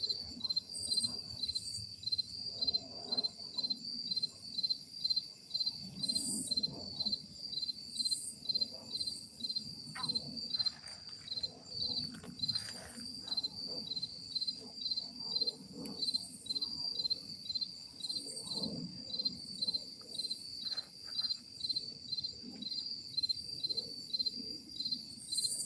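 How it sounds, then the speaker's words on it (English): Crickets chirp at night beside Seneca Creek, a steady, even pulsing trill that runs throughout, with faint low rustles and distant background noise beneath it. "Crickets are out tonight. You can hear them."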